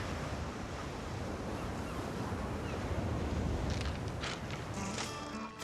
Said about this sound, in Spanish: Se escuchaba el romper de las olas.